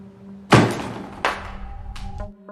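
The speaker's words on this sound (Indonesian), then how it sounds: "membuka pintu basement dan mendengar suara gedoran" Heavy thuds bang against a basement door in a film scene, two loud booming impacts followed by a softer knock, with a faint hum underneath.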